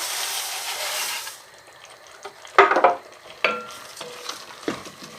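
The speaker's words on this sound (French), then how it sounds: "Un tour de cuillère et on va couvrir d'eau." A spoon stirs lentils in a pot for a potato and lentil ragout, giving a few scraping, sloshing strokes in short bursts after a stretch of sizzling hiss.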